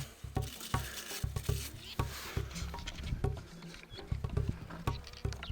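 Dry paper daisies rustle and crackle close by in the Australian desert, a soft stream of irregular clicks and brittle patters with no voices.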